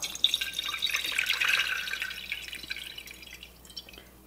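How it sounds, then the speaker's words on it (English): Liquid poured from a freshly opened jar of home-canned round steak, a close trickling splash that starts strong and fades over a few seconds, with no talking. "Now I'm just going to pour this."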